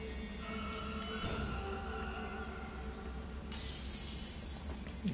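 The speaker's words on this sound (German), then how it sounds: "Machen wir das Fenster kaputt, das finde ich aber nicht nett." In the video game Child of Light, a window breaks with a sudden bright glassy crash partway through, set against a steady backdrop of game music and ambience.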